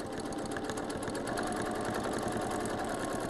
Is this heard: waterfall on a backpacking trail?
no